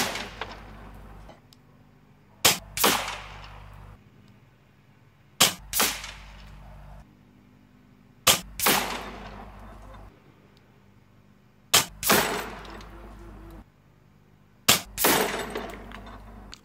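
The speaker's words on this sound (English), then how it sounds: "There you go, five shots" Five sharp shots from a Brocock Commander Magnum HP air rifle ring out at 50 yards, spaced roughly three seconds apart, each a loud crack with a short ringing tail, alone with no talk.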